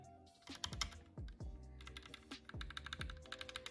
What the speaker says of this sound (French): c'est assez silencieux pour un clavier mécanique à switch